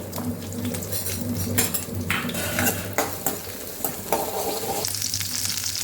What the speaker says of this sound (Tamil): இப்போ இஞ்சி அடுத்தது பூண்டு போட்டு நல்லா வணக்கிக்கலாங்க